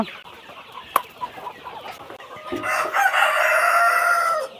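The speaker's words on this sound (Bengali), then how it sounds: "এখন চলে যাব আমার সে বড় মুরগির ঘরে দেখি বড় মুরগির কি অবস্থা" Chickens in a large poultry house, with a sharp knock and scattered clucks at first, then a rising chorus of crowing and squawking that grows loud and stays dense to the end.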